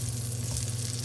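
Asparagus spears sizzle steadily in a hot frying pan on medium-high heat, a continuous close, moderate crackle with no talking.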